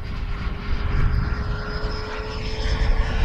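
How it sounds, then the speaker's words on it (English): An AeroFoam L-39 model jet makes a flying presentation pass at about half throttle, its steady whining drone holding a sustained tone with a broad rushing wash, loud and continuous without speech. "We do a sort of a presentation pass, Steve, about half throttle here."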